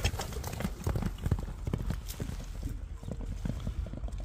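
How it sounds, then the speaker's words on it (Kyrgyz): A grey horse moves fast across a ploughed field, its hooves beating a quick, steady clip-clop rhythm that stays close and fairly loud throughout, with no talk. "көк ат кетти"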